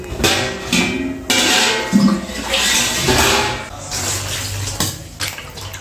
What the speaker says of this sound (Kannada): ಕುಡಿಯೋ ನೀರು ತೊಗೊಂಡು ತೊಳಿಲಾಕತ್ತಾಳ್ರಿ